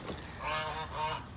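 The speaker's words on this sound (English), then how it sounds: "My geese." Pet geese honking in a garden, two loud nasal calls close to the microphone over a steady outdoor background.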